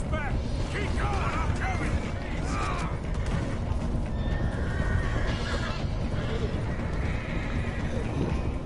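Horses neigh and whinny repeatedly amid galloping hoofbeats during a chase in the video game Red Dead Redemption 2, loud and continuous with overlapping action noise.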